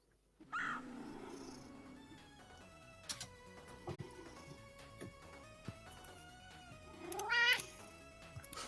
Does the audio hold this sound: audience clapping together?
no